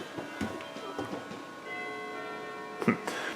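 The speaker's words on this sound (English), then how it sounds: "Just wanted you to hear that grandfather clock chime." A grandfather clock in a house chimes, bright ringing tones with sustained overtones, faint and indoors, alongside soft ticking and scattered light knocks.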